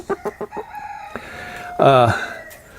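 A few short clucks from molting chickens in winter, then a brief, louder crowing-like squawk near the end, close by with quiet background.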